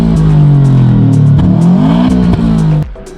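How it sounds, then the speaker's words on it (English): A Subaru Impreza WRX STI PPP Widetrack engine revving up close, a loud, throbbing rumble that rises and falls in pitch over about three seconds before cutting off, with no talk over it. "Point number 4 is the iconic Subaru noise."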